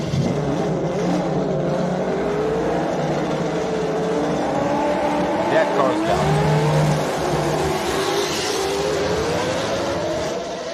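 Race car at the Simola hillclimb, its engine revving and accelerating hard with rising and falling pitch sweeps, loud and continuous throughout, with an announcer commentating over it.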